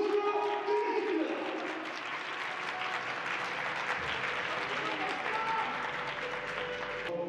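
Sustained audience applause fills a Korean professional boxing bantamweight title match venue after the winner is announced, a steady dense wash of clapping throughout with a little crowd noise mixed in.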